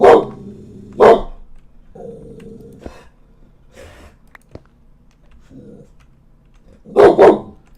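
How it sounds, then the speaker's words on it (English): A dog barks in the Minecraft GregTech: New Horizons modpack game: sharp, loud barks open the scene, with quieter growls and rustling between, and a double bark closes it. "And there's dog bark."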